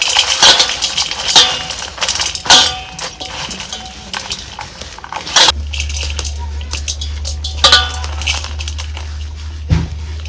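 Hot sev crushed by hand for kaliche ladu, crisp crackling and crunching in irregular bursts, followed by a steady low hum.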